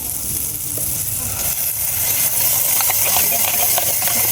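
Corned beef hitting a camp pan of frying onion and golden garlic, a dense continuous sizzle with hiss and stirring scrapes, loud and close; a voice talks faintly underneath.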